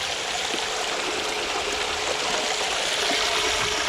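Water runs steadily and overflows from a sludge-clearing setup, a continuous close hiss of splashing flow holding the same level throughout.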